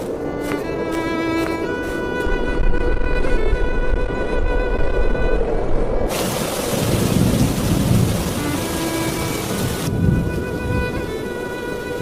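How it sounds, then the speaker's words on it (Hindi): Heavy rain pours steadily with thunder rumbling throughout, a loud crack-like surge in the middle and low rolling booms; no one speaks. "हे भगवान, बारिश होने लगी।"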